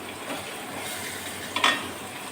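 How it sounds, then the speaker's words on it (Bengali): Tilapia frying in hot oil in a pan, a steady soft sizzle throughout with a brief louder splash or clatter near the end as the fish goes in. "আমি এখন এই মাছটা এর ভিতরে দিয়ে দেবো।"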